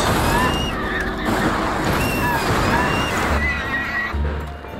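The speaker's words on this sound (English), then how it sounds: "Why they sound like pigs when they die, I'm not entirely sure" Enemies in the video game Fable: The Lost Chapters letting out squealing, pig-like death cries, several high wavering shrieks in a row amid busy game noise.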